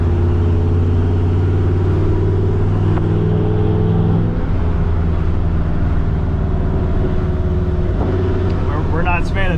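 A Chevrolet Camaro's engine runs steadily at about 2,000 RPM while driving, a loud continuous low drone heard from inside the car, with a brief shift in tone midway.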